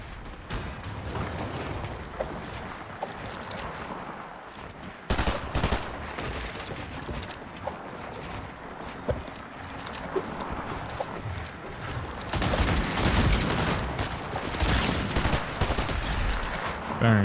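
Bursts of rapid video game gunfire crackle over a background of game sound effects, with several louder volleys toward the end.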